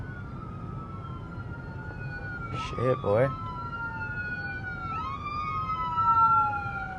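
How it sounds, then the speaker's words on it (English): An ambulance siren wails through Austin morning traffic, heard from inside a Lexus IS250. The warbling tone swells and fades as it passes, over steady road noise, with a man briefly exclaiming partway through. "Oh, there's an ambulance."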